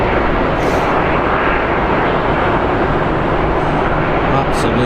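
A Boeing 757 airliner's jet engines roar loudly and steadily at Manchester Airport on a snowy day, a dense unbroken wash of engine noise close by, with someone talking over it.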